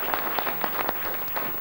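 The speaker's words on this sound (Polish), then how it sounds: "Umówiliśmy się, że będą brawa dla wykonawców" Brief applause for performers at a Polish benefit evening honoring Kazimierz Górski, scattered claps from a hall audience, fairly faint and lasting under two seconds.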